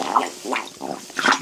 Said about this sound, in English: Dang, he's burping up a lot of stuff.